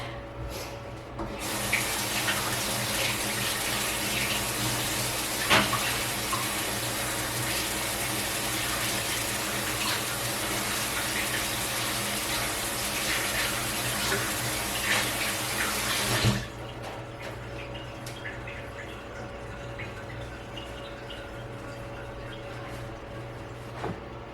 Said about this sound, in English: I think I just want to wash my hands a little bit.